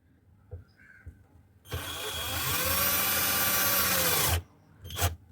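A power driver sinks a small screw into a wooden two-way speaker box, a steady whirring run of about three seconds that stops abruptly, with light handling clicks before and after.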